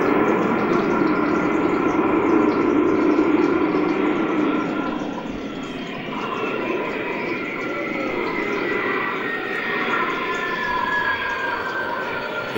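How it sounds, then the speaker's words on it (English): An Airbus A300 braking as hard as possible on landing, with smoke coming from the brakes: a loud, sustained roar and rumble with a faint high whine running over it, easing slightly partway through. "This Airbus A300 braking as hard as possible"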